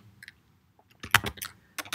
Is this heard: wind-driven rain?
no